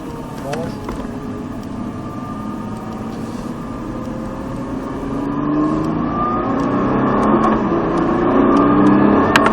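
A Nissan GT-R accelerates on the Clastres race circuit, its engine note rising steadily and growing louder through the gears, heard from inside the car with a voice speaking over it.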